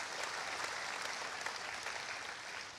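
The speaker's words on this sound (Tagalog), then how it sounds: "palakpakan natin ang Panginoon" Congregation at an online church service clapping together in praise of God, a steady, dense wash of applause holding at even strength throughout.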